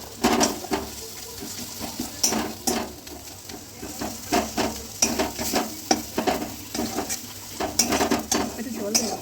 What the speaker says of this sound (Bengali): এবার একটু ভালো করে কষাতে হবে।